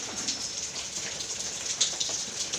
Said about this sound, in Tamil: அவ்வளோ மழை பெய்யுதுங்க